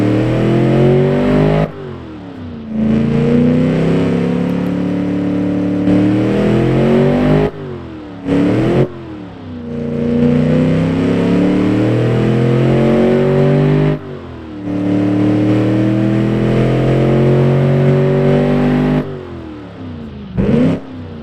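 A Chrysler LA 318 V8 engine running loud and close, repeatedly revving up with rising pitch and dropping back to idle between sharp pauses.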